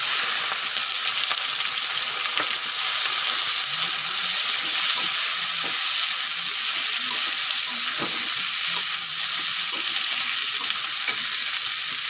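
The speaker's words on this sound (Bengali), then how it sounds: "একটু বেশি করে পেঁয়াজ কেটে নিয়েছি এখন পেঁয়াজগুলো দিয়ে দেবো" Onions hit hot oil for a mutton curry, with cumin and bay leaf already tempering, making a continuous bright hiss of frying with faint scrapes and taps beneath it. No voices are heard.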